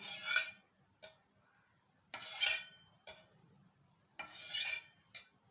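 Homemade yogurt is whisked in a bowl in three clinking, scraping bursts, each followed by a short tap, with quiet gaps in between.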